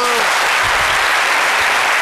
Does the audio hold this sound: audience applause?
yes